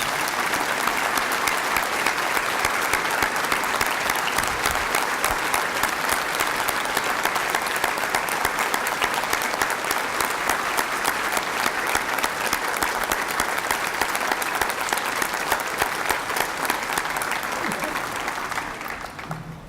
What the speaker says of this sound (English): Can all of you join me in giving an outstanding round of applause?